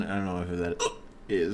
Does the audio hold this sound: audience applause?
no